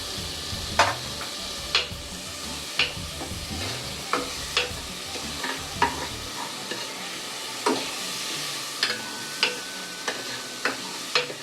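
Tomatoes fry in a garlic and ginger tempering for dal fry, with a steady close sizzle broken by about a dozen sharp scraping strokes of stirring at a fairly regular pace, and no talk.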